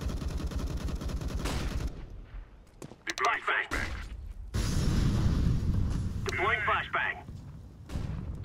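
Gunfire and grenade blasts in the shooter game CS:GO, with bursts of rapid shots and heavy booming impacts in clusters over a steady game background, alongside loud nearby effects.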